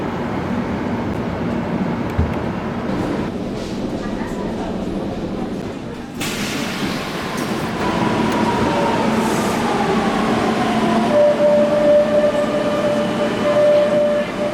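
Barcelona metro line 5 train running through the tunnel, a steady loud rumble with wheel clatter and rising squeal, a tonal whine emerging near the end, with people talking over it.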